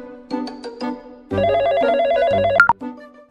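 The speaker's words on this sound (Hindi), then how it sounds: "बिट्टल भाई, सुनार की कॉल है, सेटिंग को चैन दिलाई तुमने, पैसे मांग रहा है।" A phone rings with an incoming call: a repeating electronic ringtone melody plays loud and close for about a second and a half, preceded by a few short tonal beeps, with no voices.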